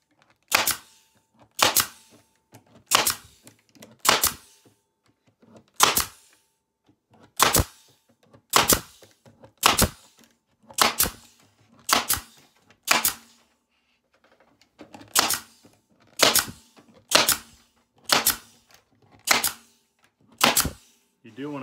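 A staple gun drives half-inch staples into a wooden bee escape board frame, giving sharp single snaps in an irregular run of about twenty shots with short pauses between groups, close and clear with a faint voice underneath.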